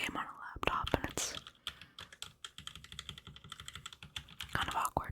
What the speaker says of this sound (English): This is kind of a gaming keyboard.